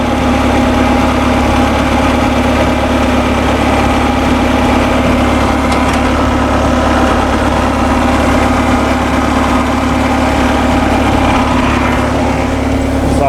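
Bobcat 773 skid steer engine idling with a fault code issue, a loud, steady low diesel rumble with constant vibration and no change in pace, heard close, with no one talking.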